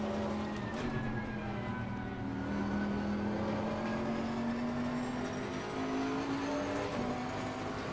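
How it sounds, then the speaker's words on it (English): Race car engine in Assetto Corsa Competizione with traction control cutting the revs, a steady droning whine rising slowly in pitch, moderately loud and sustained throughout. "I think the traction control is too high, it's just killing my revs."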